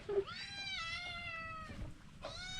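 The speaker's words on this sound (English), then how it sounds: "I've never seen a cat eat a chili." A cat eating a chili pepper at a lunch spot in the rural Philippines gives two clear, drawn-out meows, close and fairly loud, with a short pause between them.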